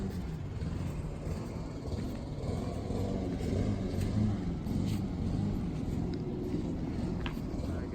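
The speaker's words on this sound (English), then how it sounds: "I'm gonna go for a little drive so the car levels" An Audi A7 fitted with new wheel spacers rolls along the road, giving a steady low rumble of engine and tyre noise. It stays even and moderately loud throughout, with no one speaking.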